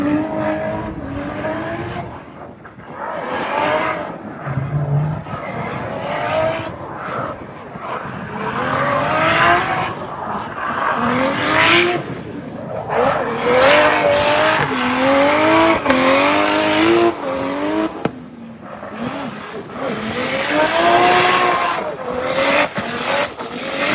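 Maserati-swapped Porsche driven hard, engine howling through rising gear pulls as the tires squeal and scrub, with a voice heard over the racing noise.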